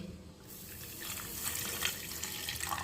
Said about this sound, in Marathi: आणि याच्यामध्ये आता पाणी ओतते.